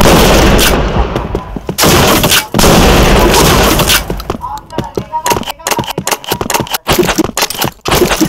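Loud, dense gunfire from the online shooter game Point Blank: rapid automatic bursts and sharp single shots crowd together, then break into scattered cracks with brief gaps.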